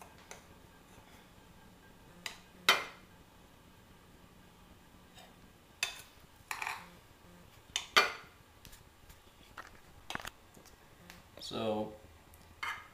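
Rice is spooned onto a plate in a home kitchen, producing scattered sharp clinks of utensils against dishware, a dozen or so irregular taps and scrapes over a quiet background, close by.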